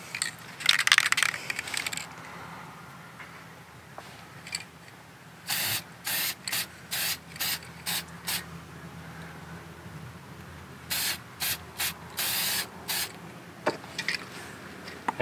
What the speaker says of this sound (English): I'm gonna coat this thing in the spray too.